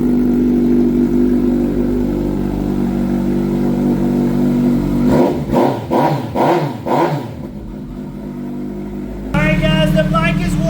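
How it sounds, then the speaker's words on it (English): A Kawasaki ZX-14R motorcycle engine with dual exhaust idles with a steady low drone, then revs hard in several quick, throaty bursts before settling. A voice talks near the end. "the sound of the dual exhaust on this model too"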